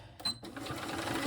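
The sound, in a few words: sewing machine straining while sewing through thick bag layers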